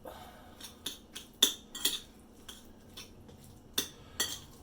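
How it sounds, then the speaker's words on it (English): A spoon scrapes and clinks against a bowl of oatmeal mixed with bite-sized canned peach slices, a series of sharp, separate taps at an uneven pace, close and fairly quiet, with no voices. "Go ahead and stir that up"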